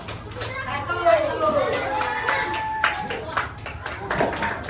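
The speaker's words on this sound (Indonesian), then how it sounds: "Tepuk tangan untuk kelompok." Classroom group clapping for a team of students, uneven rhythmic claps mixed with children's chatter and voices throughout.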